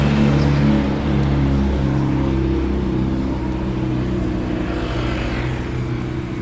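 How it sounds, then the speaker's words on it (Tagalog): Steady road traffic hum with a passing engine that swells and fades, a broad continuous drone and no talking. "Maingay lang yung mga sasakyan sa daan."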